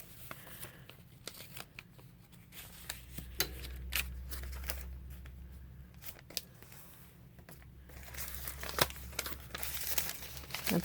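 Very thin decorative paper is handled and crinkled up close, giving soft rustles and sharper crackling bursts that swell toward the end, with no voices over them.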